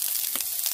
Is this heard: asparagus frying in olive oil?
yes